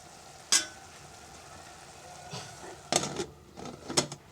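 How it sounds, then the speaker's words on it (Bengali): Hechi greens with shrimp frying in a pan give a soft steady sizzle, punctuated by a handful of sharp clinks and scrapes of a utensil against the pan, close and fairly quiet. "ভাজি করছি।"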